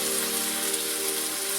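Beef searing in a hot pan for a beef Wellington, a loud, dense, steady sizzle that fills the moment without any talk.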